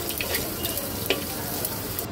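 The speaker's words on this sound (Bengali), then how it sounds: "জিরা তেজপাতাটাকে একটু হালকা ভেজে নেব।" Cumin seeds and a bay leaf fry in oil left from frying fish, a steady close sizzle with faint crackles running throughout.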